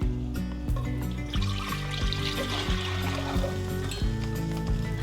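Chicken broth poured from a carton into a cooking pot for a homemade ramen base, a steady liquid trickle and splash running about five seconds under a continuous low background hum.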